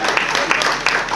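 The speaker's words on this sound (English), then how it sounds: "Aye, let's clap, everyone." An audience at a wedding-style gathering bursts into applause, a dense burst of many hands clapping together, fairly loud and close, with voices mixed in.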